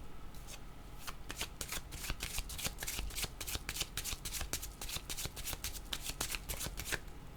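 Tarot cards are shuffled by hand in a rapid series of crisp, close riffling bursts that repeat throughout.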